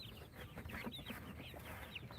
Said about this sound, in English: Just hanging out with the baby chicks here.